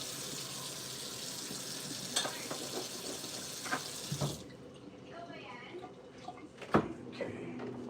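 Minced garlic sizzles in a pan, a dense frying hiss that runs steadily for several seconds, then drops away to quieter stirring clatter and a few utensil knocks.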